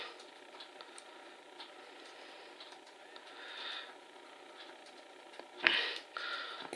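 Ratchet clicks from a coil tightening mechanism on a Doc Cotton 2 coil, a few faint isolated clicks over low background hiss with one sharper snap near the end.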